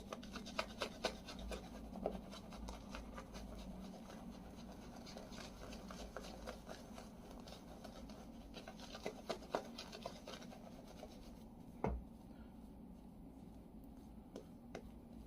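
A shaving brush scrubs soap lather across a face during a wet shave with a Merkur 41C razor, a soft, close, continuous rasping with quick repeated strokes at low volume.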